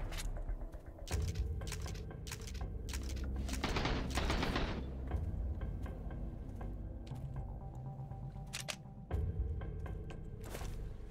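Gunfire in the game Sunkenland, dense bursts of loud automatic shots and scattered single cracks, a heavy rattling barrage midway, then more sporadic shots, with no talking.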